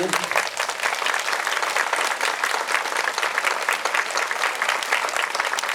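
Sustained audience applause at a special-needs school presentation, honouring the school director's husband; dense, steady clapping from a crowd fills the whole stretch at even loudness, with some voices mixed in.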